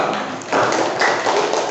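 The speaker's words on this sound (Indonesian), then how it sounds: "kasih tepuk tangan untuk kelompok 2" A classroom of students applauds a presenting group, a brief burst of many hands clapping together that swells after the first half-second and holds steady.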